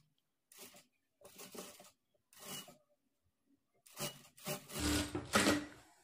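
A sewing machine stitching cap sleeves runs in four short bursts of mechanical whirring, separated by brief pauses, the last burst longest and loudest.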